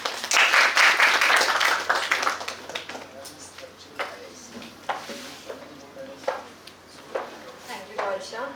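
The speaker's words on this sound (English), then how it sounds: "Let's give a huge round of applause." Audience applause at a college Ideathon event, a burst of clapping that starts strong then tapers to scattered claps as a voice speaks over it.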